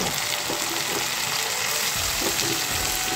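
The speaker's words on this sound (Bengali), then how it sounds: "ডালটা দেওয়ার পর এটাকে নাড়াচাড়া করে ভাজা ভাজা করে ঘন করে" Masoor dal stirred and fried in a pan, a steady close sizzle with occasional scraping stirs running through the whole stretch.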